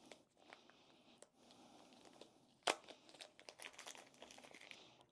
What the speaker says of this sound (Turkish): şu 1 bölü 4 girişi için şu kağıtları atıyorum fazlalık burada yer kaplamasın